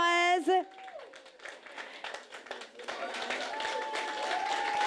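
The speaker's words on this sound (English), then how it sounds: "Round of applause." Applause after a cake cutting at a business gathering, a scattered patter of hands that builds into fuller clapping, with a tonal sound and voices over it at the start.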